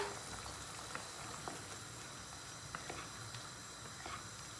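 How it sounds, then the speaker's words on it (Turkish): Meat stew with peas simmering in a pot, a faint steady hiss with occasional small bubbling pops and clicks, no voices. "Yemeğimiz kaynadı."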